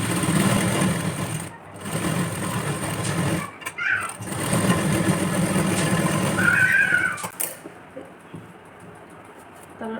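A sewing machine stitches padded blouse parts with a steady whirring run, pausing briefly a couple of times, then stopping as quieter room noise takes over.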